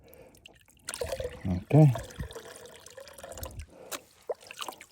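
Water sloshes and drips in a pan while gold is being panned, with short liquid splashes in bursts and someone speaking briefly nearby.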